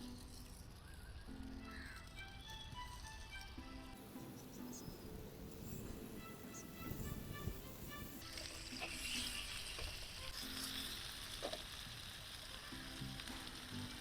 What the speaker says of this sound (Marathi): यामध्ये आपण फ्राईंग प्रोसेस सुरू करूयात. तर हा टाकूया आपण फ्राय करायला.